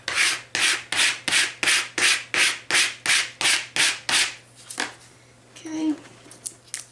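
A squeegee is pushed across vinyl on a Dollar Tree plate in about a dozen evenly spaced, close scraping swipes, followed by a pause and a few softer scuffs.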